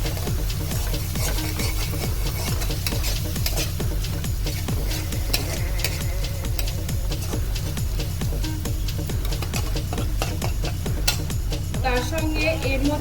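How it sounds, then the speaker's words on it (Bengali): Ginger-garlic paste frying in oil in a pan over a medium flame while a spoon stirs, a steady close sizzle with rapid repeated scraping strokes throughout and no talk. "এদিকে ভালো করে নেড়ে নেব"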